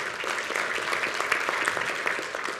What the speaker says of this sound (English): Everybody give Young Jin a round of applause